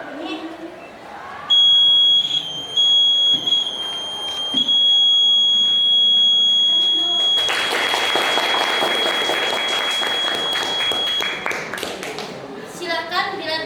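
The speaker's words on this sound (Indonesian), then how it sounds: "Hal ini menyebabkan buzzer akan berbunyi." A shrill, steady electronic buzzer tone from a water level alarm sounds for several seconds, first alone, then continuing under a burst of applause and clapping before cutting off.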